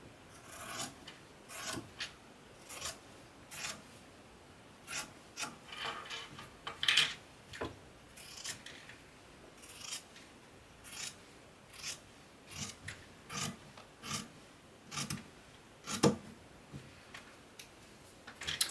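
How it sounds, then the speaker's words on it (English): Scissors trim the sides of a fabric apothecary bag, making a series of close, crisp snips in a fairly regular rhythm, each cut a short rasping crunch, with quiet between them. "I'm just going to trim up my sides."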